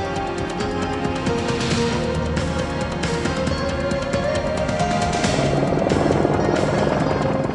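A twin-engine AH-64 Apache military attack helicopter thunders nearby, its rotor chopping in a rapid, steady pulse over a dense engine roar.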